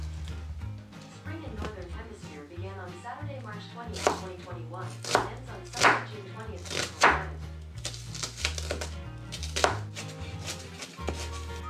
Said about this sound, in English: and then finally chop up your onion